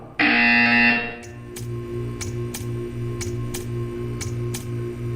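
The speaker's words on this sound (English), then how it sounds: "You will hear a buzzer." A loud, harsh electronic buzzer from Portal 2 sounds for about a second, then gives way to a steady mechanical ticking with regular clicks over a low hum.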